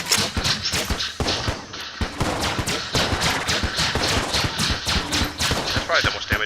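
Rapid repeated gunfire from the Helix bullet gun in the Enter the Gungeon-style shooter, sustained bursts of sharp shots over dense game effects throughout.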